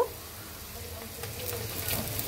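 Onion sizzles steadily in a hot pan, a continuous close crackle that swells slightly as chopped carrot goes in near the end.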